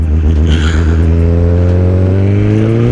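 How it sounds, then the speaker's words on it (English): A 2020 BMW motorcycle with a loud aftermarket exhaust revs up close and alone, its engine note climbing steadily in pitch as the throttle opens. "So, loud pipe."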